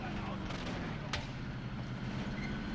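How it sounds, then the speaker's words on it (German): Rapid gunfire in Call of Duty: Warzone, dense continuous shooting and blasts filling the whole stretch with a sharp crack near the middle. "Ich schieße jetzt aus."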